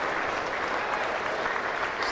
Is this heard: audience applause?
yes